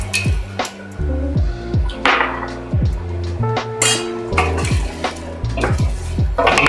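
Tomato sauce being stirred in a pot, with a spoon clinking and scraping against the sides in irregular knocks over a wet, sloshing background, close by.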